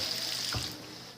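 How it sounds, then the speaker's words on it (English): Water runs from a sink tap into a cooking pot while making applesauce, a steady close hiss of flowing water that fades slightly toward the end. "we then bring it over to the sink. We're going to put a little bit of water into it"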